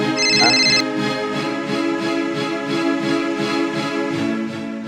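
A repeating electronic ringback tone pulses steadily through the whole stretch, with a brief higher beeping tone at the very start.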